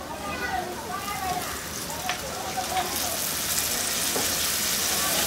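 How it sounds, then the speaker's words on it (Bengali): Mushrooms and red chillies fry in a pan with a constant, fairly loud sizzle, a few light stirring clicks, and a faint voice in the background. "একটু ভেজে নেব মাশরুমটা একটু সিদ্ধ হওয়া পর্যন্ত"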